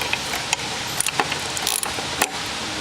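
Allen screws being loosened and removed from the back of a tank's top plate in a cell box: a close run of small metallic clicks and ratcheting ticks, with no voices.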